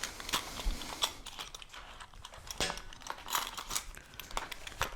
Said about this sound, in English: Actually, I should check my wrenches here.